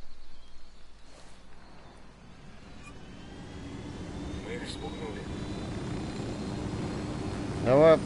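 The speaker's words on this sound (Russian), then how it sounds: "Вертолеты." Helicopter in the tactical shooter game Ghost Recon Wildlands, a low rotor drone that grows steadily louder as it approaches and lifts off, with voices speaking over it.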